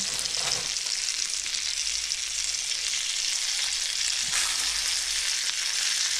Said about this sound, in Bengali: আর বানটাকে এভাবে একটু গরম করে নিচ্ছি, হিট আপ করে নিচ্ছি